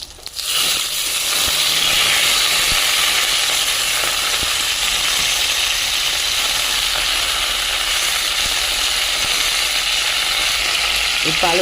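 Whole spinach leaves sizzle steadily in hot oil for Bengali prawn-and-spinach cooking, a dense continuous frying hiss close by with faint stirring scrapes.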